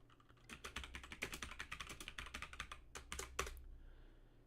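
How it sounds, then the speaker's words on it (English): Rapid, uneven keystrokes on a computer keyboard clatter close to the mic in a quiet room, with a steady low hum underneath and no voices. "You can hear the keyboard."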